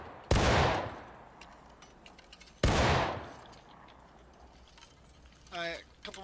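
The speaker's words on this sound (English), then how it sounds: "Just gotta put as much shots down the range. take like 1 second to aim and then fire." Two loud, sharp musket volleys in War of Rights, each a sudden crashing burst that rolls away into fading echo, with a short spoken voice near the end.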